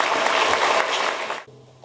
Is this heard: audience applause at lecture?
yes